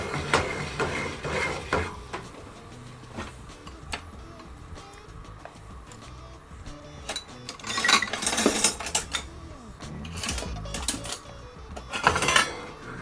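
Metal spoon clinking and scraping against dishes while plating food in a home kitchen, irregular ticks and taps building to a few sharp louder clatters near the end.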